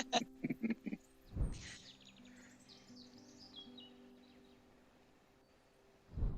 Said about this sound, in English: There it is. A burrowing owl.